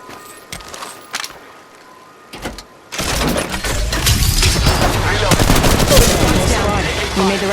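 Sustained automatic gunfire in the battle-royale game Apex Legends Mobile, loud and continuous after a few scattered early shots, with brief game voice lines under the shooting.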